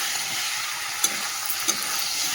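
Spice masala with ground poppy and melon seed paste is stirred in hot oil, a steady close sizzle with a couple of soft scraping knocks from the spoon against the pan.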